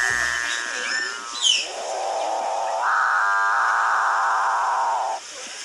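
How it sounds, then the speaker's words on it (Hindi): A capuchin bird from South American rainforest gives its deep, eerie, drawn-out moaning call, a single long droning note that rises partway through, loud and close, preceded by brief higher chirps. "Capuchin bird. रहस्यमयी और अनोखी आवाज़ वाला पक्षी।"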